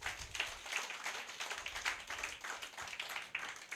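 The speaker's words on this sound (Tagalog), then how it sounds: "pinakamalakas sa palakpak sa Panginoon" Church congregation applauding, dense steady clapping from many hands at moderate distance, faint and continuous throughout.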